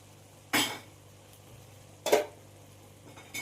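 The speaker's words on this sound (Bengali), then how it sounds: "এখানে আমি কাবলি ছোলা আর শিমদানাটা কুকারে সেদ্ধ করে রেখেছিলাম সেটা দিয়ে দিলাম।" Boiled chickpeas and beans being dropped into cooked masala in a pan, two distinct soft thuds and clatters about a second and a half apart over a quiet kitchen background.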